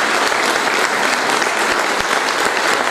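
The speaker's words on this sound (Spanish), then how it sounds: "Reiteramos un aplauso en este tema al señor general" A hall audience at a solemn session applauds the general, dense and loud clapping sustained evenly throughout with no break.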